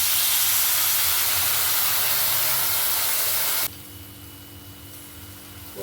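Water poured into a hot pan while cooking potato kizhangu with turmeric for a South Indian breakfast, a loud broad steady hiss and spray that drops suddenly to a softer, quieter simmering hiss partway through.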